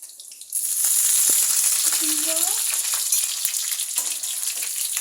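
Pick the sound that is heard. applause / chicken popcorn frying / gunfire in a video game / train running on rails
chicken popcorn frying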